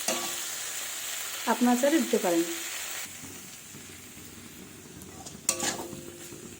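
Spice masala with garlic paste and chopped onion frying in oil for a Rui fish curry. A soft, steady sizzle runs under a brief spoken line, with a few clinks of a utensil against the pan near the end.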